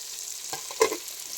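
Biryani mixture stirred in a pot after mint and coriander are added, a faint scraping stir with one louder clatter near the middle, steady low sizzle underneath and no voices.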